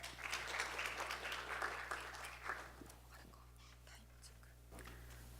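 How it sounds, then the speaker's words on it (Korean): Quiet audience applause welcoming a presenting team at a 2018 horse-industry idea contest, strongest at first, thinning out over a few seconds above a low electrical hum. "큰 박수로 환영해 주십시오"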